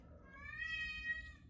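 A pet cat meows loudly and insistently in one long, drawn-out, wailing cry close by, with a low background rumble underneath.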